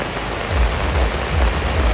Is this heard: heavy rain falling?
yes